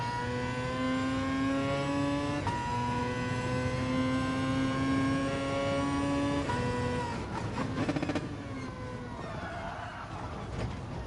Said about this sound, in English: sounds electric with gears. Might be a hybrid.